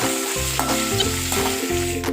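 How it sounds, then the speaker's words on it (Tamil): Small onions sauté in a hot pan while being stirred, a continuous crackling sizzle with light scraping over soft background music. "வெங்காயம் நல்லா டிரான்ஸ்பரண்ட் ஆகிற வர வதக்குங்க"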